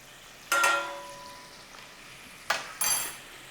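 Flour cooks out in a very hot pan for a traditional British egg sauce. Brief bursts of sizzling and stirring rise over a quiet background, with a couple of faint utensil clinks.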